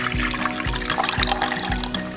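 Kangen water poured out after washing pesticides off vegetables, a steady splashing, gurgling flow close by with a few rhythmic low thumps, no voices.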